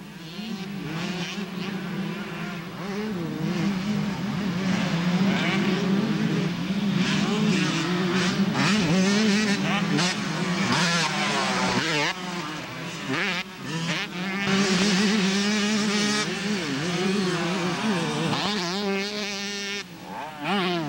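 Motocross motorcycles at a local amateur race in Dayton, 1991, their two-stroke engines droning and revving steadily, several bikes blending into a continuous buzzing roar at moderate distance, with the pitch rising and falling as riders work the throttle.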